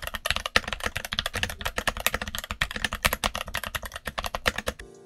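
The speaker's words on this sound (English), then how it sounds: "But I did the sound test, like I said, keeping the lubed Redragon Brown switches." Rapid, steady typing on a modded Redragon mechanical keyboard with lubed Redragon Brown switches and Cherry keycaps, dense keystrokes clattering close and loud throughout with no talking.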